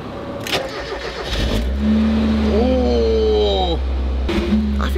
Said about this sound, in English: that definitely sounds like an exhaust